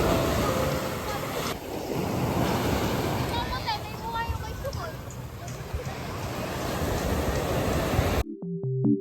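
Rushing sea surf and wind buffeting the microphone at San Juan beach, La Union, a continuous roar of waves close by, with faint voices in the background.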